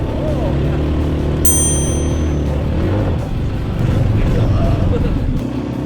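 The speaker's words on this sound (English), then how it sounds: "It's handling this muddy uphill drive really well." A small US military Jeep drives up a muddy hill, its engine giving a steady low drone through most of the clip, joined by a brief high whine. Voices talk over the engine near the end.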